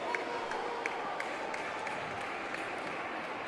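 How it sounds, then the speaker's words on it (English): A crowd at an indoor track meet cheers and claps around the shot put event, a steady distant wash of applause and voices. "Got some cheering over at Shot Put."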